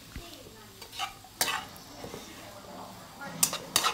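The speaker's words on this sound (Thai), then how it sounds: "เราก็ผัดคลุกเคล้าไปสักแป๊บนึงค่ะ" Mama instant noodles being stir-fried in a pan, with quiet intermittent scrapes and clinks of a utensil stirring against the pan over a faint sizzle, fairly soft and close.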